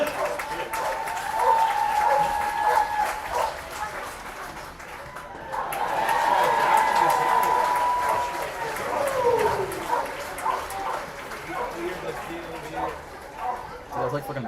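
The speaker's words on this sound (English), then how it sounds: "Now please give him a round of applause as he takes the mound to throw out tonight's first pitch." Crowd applause fills the stands at a minor-league baseball game, Niagara Falls Americans at Batavia Muckdogs, as someone takes the mound for the ceremonial first pitch; a steady, moderately loud wash of clapping swells again midway, with a dog barking now and then.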